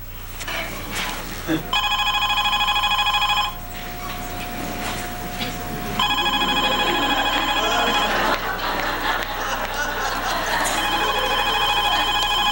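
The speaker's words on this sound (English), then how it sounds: "The phone's ringing." A telephone rings in a sitcom scene, with loud electronic rings in two long bursts separated by a pause, while people talk over and between the rings.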